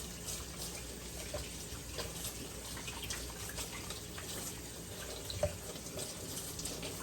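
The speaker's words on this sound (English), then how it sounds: "we're just gonna wash our hands off just to get the excess dough off" Hands are washed under a running kitchen tap to rinse off sourdough, a soft steady stream of water splashing quietly with light rubbing and a faint clink.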